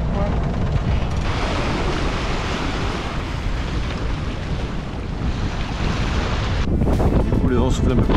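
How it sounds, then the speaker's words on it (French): Strong wind of about 22 knots roars continuously across a microphone aboard a sailboat off Portugal, with rushing water underneath; a voice speaks briefly near the end. "Du coup le vent souffle un peu plus, il est à 22 nœuds maintenant"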